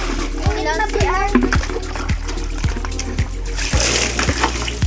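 Water poured from a bucket splashes down, bucket-hauled from a deep well after the pump motor broke; a sharp splash lands near the end among lighter splatter, with children chattering over it.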